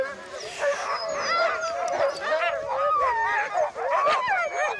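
Sled dogs yip, whine and bark excitedly in a dense, overlapping chorus close by, waiting on snow before a run, with a steady restless clamor throughout.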